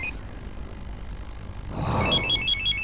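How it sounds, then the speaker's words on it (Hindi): After a quiet stretch of low background rumble, a telephone starts ringing with rapid, repeating electronic trills. "किसका फोन है"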